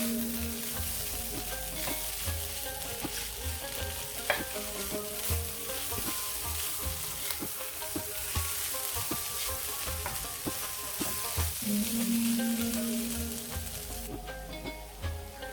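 Chimichanga masala filling sizzles steadily in a hot pan on a gas flame, with intermittent scraping and clinking of a spoon stirring it, close and continuous with no talk.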